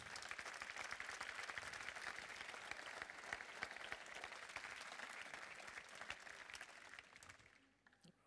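Applause fills a hall at the Bocuse d'Or France awards ceremony as a chef is welcomed, a dense, steady wash of many hands clapping that thins and fades out at the end.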